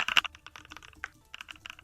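Simulated mechanical keyboard clacks from a typing-sound app, a quick close burst of sharp key clicks followed by a pause and then a second run of evenly spaced taps.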